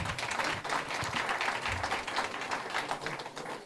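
Audience applause for the moderator at a venture capital panel event on energy and climate tech, a dense, steady burst of many hands clapping that fills the room and carries on without letup.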